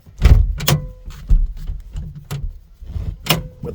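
The door of a 1964 DKW Junior, a two-stroke car, is opened and shut several times, giving solid close-up thunks and clicks with short pauses between them.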